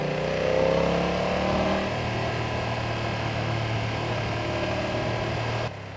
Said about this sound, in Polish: Mamy tutaj wydech, który jest fabryczny, ale brzmi rewelacyjnie.